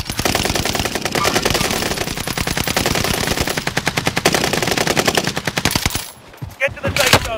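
Sustained rapid machine-gun fire in Call of Duty: Warzone, a dense close burst of automatic shots for about six seconds, then a few scattered shots and clatter as the firing breaks off.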